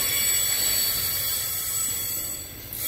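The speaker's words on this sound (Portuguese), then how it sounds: "Esse barulho aí que vocês estão ouvindo é o atrito da flange do rodeiro com o boleto aí do" Steel train wheel flanges rubbing against the rail head as freight wagons of a VLI or Rumo train work the Serra do Mar grade, giving a continuous high metallic squeal and hiss over a low rumble, loud and close, with no talk.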